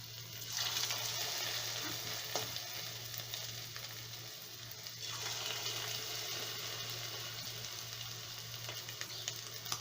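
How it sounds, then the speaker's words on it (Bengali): Chicken pieces deep frying in hot oil, a steady dense sizzle with a constant low hum beneath and faint clinks, running the whole time with no talking. "এইভাবে আমি একটা একটা করে দিয়ে সব মাংসগুলো ভেজে নেব।"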